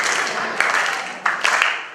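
An audience claps along to a folk song, a dense wash of many hands with several louder accents standing out at fairly even intervals, fairly close and without clear speech.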